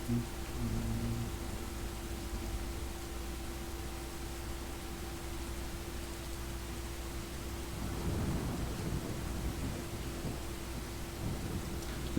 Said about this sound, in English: Now I have rain sounds